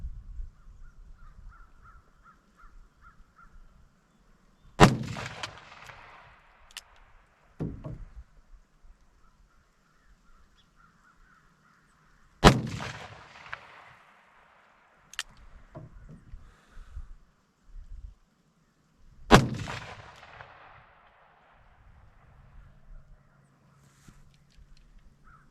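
Colt Anaconda revolver fired with Keith bullet loads over 21 grains of 2400 powder: three sharp shots spaced several seconds apart, each ringing out with a short decay, with quiet handling clicks between.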